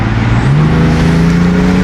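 Car with a full Active Autowerke exhaust, windows down, gives a loud close engine note that steps up and holds a rising, sustained rumble.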